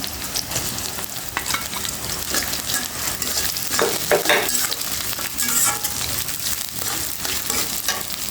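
Prawns sizzle steadily in a hot pan, a continuous close frying hiss broken by scraping stirs, with no talking.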